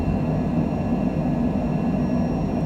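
A Cessna Citation Longitude jet roars steadily down the runway on takeoff from Las Vegas, a loud, continuous engine rush with a faint high whine, heard from inside the aircraft.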